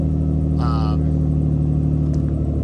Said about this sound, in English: As you guys can hear, it's got one hell of an exhaust leak.